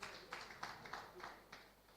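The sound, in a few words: audience applause for an award guest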